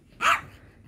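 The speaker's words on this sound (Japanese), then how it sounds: "コロちゃん、ほえんと。" A dog gives a single short, sharp bark close by, with quiet surroundings before and after.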